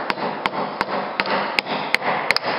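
Sharp knocks tapped across the wooden floor boards beneath a used trailer, checking for rot around rusty axle areas; about eight distinct raps spaced irregularly over steady background noise, fairly close.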